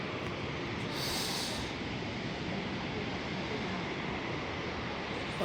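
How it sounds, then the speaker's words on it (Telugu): Small mountain waterfalls along the Yamunotri temple path give a steady, dense rush of falling water, loud and close, with a brief brighter swell early on and a faint voice underneath. "ఇది మినీ వాటర్ ఫాల్స్ ఇవన్నీ"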